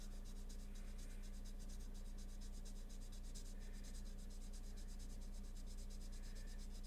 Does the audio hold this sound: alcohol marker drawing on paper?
yes